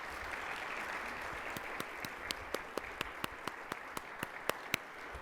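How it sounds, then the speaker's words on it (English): Applause from an audience at a Columbus Metropolitan Club forum on children's mental health, a soft wash of clapping that gives way to a clear, steady run of individual claps in an even beat. "Let's give them a round of applause."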